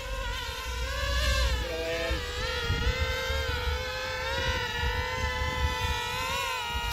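A speed drone flying fast, its high whining motors holding a steady buzzing tone with small pitch shifts as the throttle changes, loud and close throughout.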